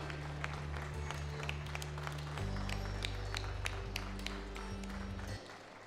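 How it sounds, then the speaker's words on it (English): An audience applauds a plaque unveiling at an airport inauguration ceremony, giving steady, sustained clapping at moderate distance over a low hum from the hall. "Let's give a big round of applause for the wonderful plaque unveiling."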